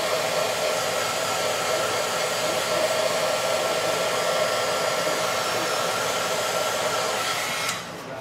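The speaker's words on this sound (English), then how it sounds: "I'm going to shoot this with my heat gun quick, because I accidentally smeared it" A heat gun blows continuously on a handmade paper card, a close, steady whooshing fan roar that holds level and then drops slightly near the end.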